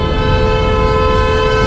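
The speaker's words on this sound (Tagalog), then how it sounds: "Bumubusina." A vehicle horn blares in one steady, continuous tone, loud and close throughout, its tonal drone sitting over low road rumble with no talk.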